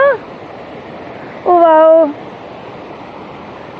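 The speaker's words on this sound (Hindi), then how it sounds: "ये देखो झरना" A waterfall stream flows near Tungnath in the Himalayas, giving a steady, close rushing wash, while a woman briefly exclaims over it.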